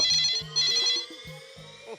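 Telephone ringing indoors, a loud close electronic ring repeating in quick pulses over about two seconds, with no voices.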